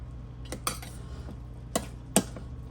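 A utensil knocks against a pot while smoked meat is stirred, producing sparse, sharp metallic clinks at irregular intervals over a steady low hum, close by.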